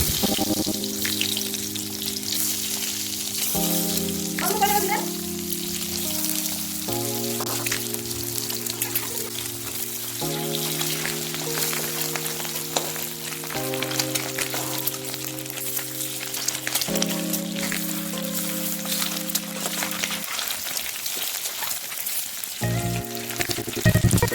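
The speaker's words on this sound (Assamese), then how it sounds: "ঠিক একেদৰে কণীখিনিও মই ভাজি ল'ম।" Continuous crackling sizzle of eggs frying in hot oil on a high flame, loud and close, with music playing over it throughout.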